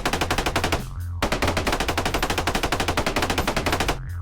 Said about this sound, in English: I am mining with a minigun